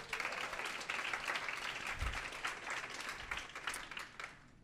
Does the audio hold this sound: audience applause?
yes